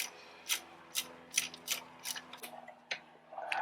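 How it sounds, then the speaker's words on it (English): Ratchet wrench with a short extension working the alternator tensioner bolt on a 1998–2002 Honda Accord 4-cylinder, giving a string of quiet, close clicking bursts at uneven intervals. "I'm gonna use a little extension just to get this bolt, the tensioner bolt, out."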